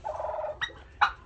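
Domestic turkeys gobbling close by at Christmas time, with one drawn-out warble followed by two short, sharp gobbles.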